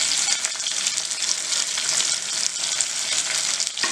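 Garlic flakes fry in a pan of onions for Mumbai street-style pav bhaji, giving a steady, close crackling sizzle throughout with no voices.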